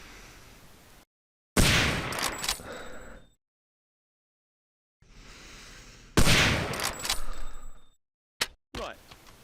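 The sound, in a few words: Browning machine gun firing in video game Hidden and Dangerous 2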